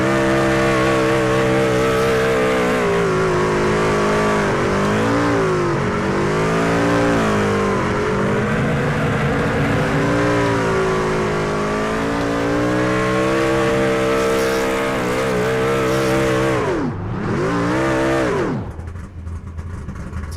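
Race truck spinning victory donuts at Watkins Glen, a continuous loud engine roar with rising and falling revs over about eighteen seconds before cutting off abruptly.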